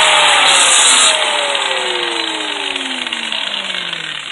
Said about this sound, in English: I got all my pieces sanded down, the back sides